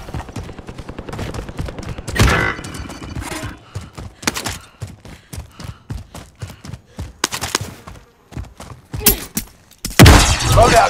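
Distant bombers detonating in Call of Duty: Modern Warfare, heard as repeated sharp bursts and crackling blasts spread across the battlefield, with a louder close blast near the end.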